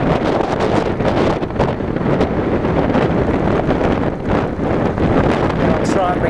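Loud, constant wind buffeting roars across the microphone while riding a motorcycle in Cyprus, a heavy rushing noise with no break.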